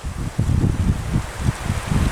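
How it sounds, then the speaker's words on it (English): Gusty outdoor wind buffets the microphone in loud, low rumbling surges that swell and ease several times within a couple of seconds. "That wind is interestingly gusty."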